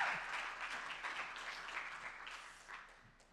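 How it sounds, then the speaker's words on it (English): Audience applause at a leadership conference, a sustained wash of many hands clapping at moderate distance, steady then gradually fading toward the end. "So could you please give a massive round of applause to Rifaz?"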